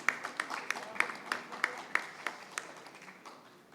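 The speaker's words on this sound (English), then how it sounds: "Let's have a huge round of applause, ladies and gentlemen, for Shri Ramakrishna Singh." A small conference audience at an electric vehicle session claps in a sparse, uneven patter of distinct individual claps that gradually thins out, with a faint voice underneath.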